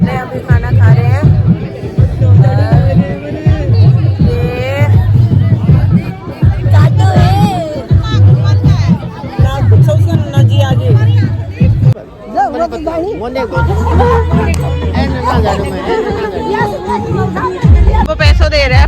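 Dense crowd chatter fills a wedding in a marriage garden, many overlapping voices close and loud throughout, with a thumping rhythmic beat underneath for much of the time and a brief dip near the middle.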